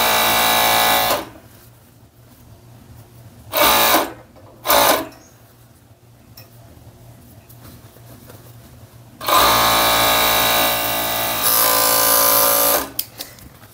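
A domestic sewing machine stitching a seam on fitness-wear shorts runs in three bursts: a long whirring stretch near the start, two short spurts midway, then a sustained run near the end, with quiet handling between.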